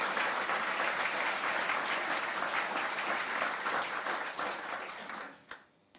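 Dense, steady applause from a large audience fills a room at a military change of command ceremony, holding level for several seconds before fading out, with a final few scattered claps.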